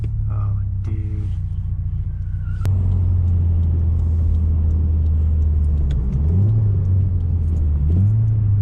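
A 2018 Subaru WRX with an Invidia R400 catback exhaust drones loudly and steadily, with a couple of sharp rev blips from heel-toe downshifts near the end.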